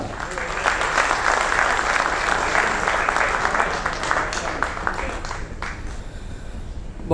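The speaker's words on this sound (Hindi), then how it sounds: "आप जोरदार तालियों के साथ इस्तकबाल करें" Audience at a mushaira in Dubai applauds to welcome a poet, a sustained burst of crowd clapping that swells early and gradually thins toward the end.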